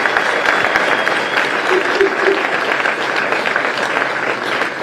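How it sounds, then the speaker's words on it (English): Audience applause at the opening ceremony of the 2023 PDGA disc golf world championships: a dense, steady wash of clapping from a large crowd that keeps going for the whole stretch, loud and close. "let's just give them a quick round of applause"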